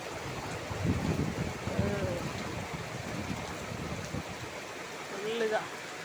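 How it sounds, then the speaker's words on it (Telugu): Rainwater rushes along a road in a continuous wash of flowing water, with wind-like noise and a few scattered voices over the top. "కరెంట్ ఆడ మీద రోడ్డు మీద బాగా వెళ్తున్నాయి నీళ్ళు."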